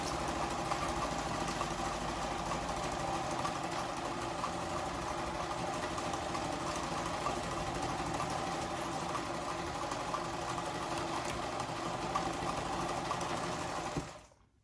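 A sewing machine stitching a fiber art piece, a steady close mechanical whir and rapid needle chatter running continuously before stopping abruptly at the end, with no voices.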